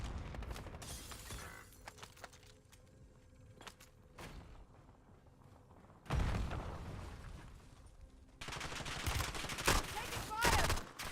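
Bursts of gunfire ring out in a team-based shooter video game, scattered shots early, then louder sustained volleys near the end, with a little talk mixed in.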